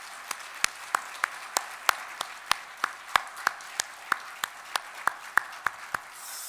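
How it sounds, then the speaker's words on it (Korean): A church congregation offers a round of applause in praise to God; sharp, evenly spaced single claps ring out one after another in a steady rhythm, moderately close with quiet room tone between. "우리 하나님께 영광의 박수를 올려드리겠습니다"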